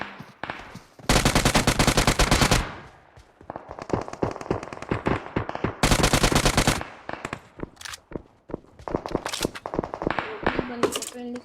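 A UMP submachine gun fires in long loud automatic bursts in a solo-versus-squad battle royale match, two sustained strings of rapid shots followed by scattered single and short-burst fire, with a voice talking between volleys.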